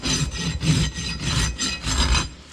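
A farrier's rasp scrapes a pony's hoof wall during a barefoot maintenance trim, rolling the bevel. The strokes come in a steady back-and-forth rhythm, close and fairly loud, with no talk.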